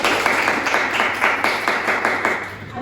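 Students applauding in a classroom, a fairly close, steady patter of clapping hands that keeps an even rhythm for a few seconds without talk.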